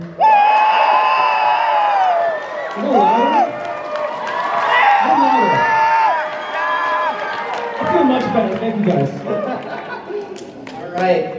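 A crowd at a convention whoops and cheers in excited bursts, with high shouts and chatter mixing together close by over roughly ten seconds.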